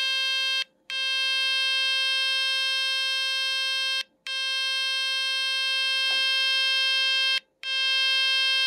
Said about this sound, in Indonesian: berikutnya untuk HP ini akan mengeluarkan suara nyaring ya. Bisa kalian dengar?